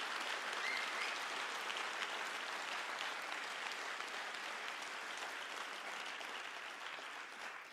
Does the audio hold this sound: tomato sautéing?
no